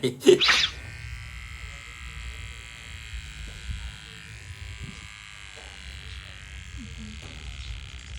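An electric shaver buzzes steadily as it shaves a child's head at a family head-shaving ceremony, a thin continuous drone held close, with people talking over it.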